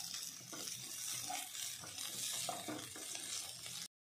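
Spiced cauliflower filling with fresh coriander leaves is stirred in a pan for gobi paratha, giving a quiet, steady sizzle with soft, irregular scraping strokes before it cuts off abruptly.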